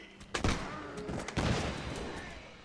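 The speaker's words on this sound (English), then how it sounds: "plenty of bullets is passing by me" Musket volleys crackle through a Napoleonic-era battle game with the Prussian army, with sharp bursts of gunfire at about half a second and again near 1.4 seconds, then a rough, rolling din of shots and passing bullets.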